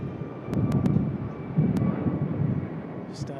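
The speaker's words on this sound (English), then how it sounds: "There it is, the Cebu Pacific, another beautiful A330 Neo." Cebu Pacific Airbus A330neo airliner on final approach to land on runway 34 right at Sydney Airport, a steady broadband engine rumble from nearby with a few brief clicks over it and no talk.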